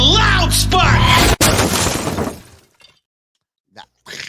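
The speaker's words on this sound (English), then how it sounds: "It's like shattered glass." A loud shattering-glass sound effect crashes in with a sharp burst and bright, noisy breakup, then decays into near silence with a few faint bits after.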